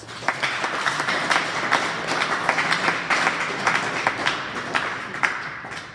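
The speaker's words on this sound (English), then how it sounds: "let's give them a round of applause" Audience applause at a wrestling awards ceremony, a sustained wash of many hands clapping with sharp individual claps standing out, steady and fairly loud from start to end with no talk over it.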